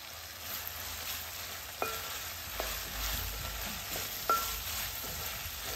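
Dried prawns and gongura leaves cook in a pan with a steady, close frying sizzle, broken by a few sharp clinks of stirring; no one talks.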